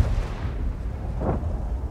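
Artillery in a tank battle video game, a deep low continuous rumble with one muffled distant boom swelling in the middle.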